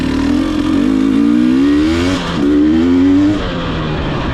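A GasGas EC300 two-stroke enduro motorcycle engine revs loud and close, its pitch climbing through a long rising sweep, briefly dropping, then surging again before settling.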